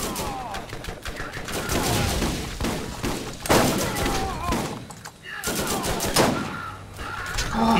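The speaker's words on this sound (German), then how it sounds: "Es sind immer zwei, die auf mich schießen." Dense bursts of enemy gunfire from the Borderlands video game, shots cracking repeatedly around the player across the whole stretch, fairly loud and layered with game effects and occasional voices.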